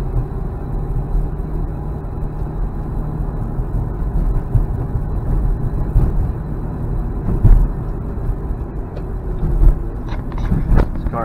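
A 1988 Mazda RX7 rotary engine, not yet warmed up, runs continuously with a loud, steady low rumble and a few small surges, heard up close with no talk.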